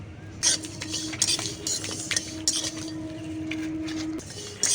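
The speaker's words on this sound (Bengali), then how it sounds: "একদম হালকা আছে ভেজে নিচ্ছি মশলাগুলো" A utensil stirs Maggi-style masala spices dry roasting in a pan, giving repeated scraping and clinking strokes against the metal over a faint steady hum.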